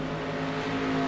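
Race cars in a heat race at a dirt speedway drone together in a steady, sustained engine roar with a constant hum of many motors, heard from a distance with no talking.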